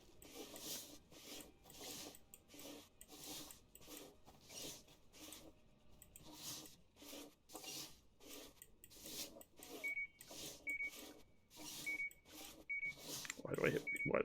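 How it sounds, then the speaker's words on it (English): In the Gas Station Simulator video game, short, evenly spaced electronic beeps sound inside a bathroom over a continuous pulsing mechanical whir. A voice cuts in at the very end. "Why do I hear beeping in here?"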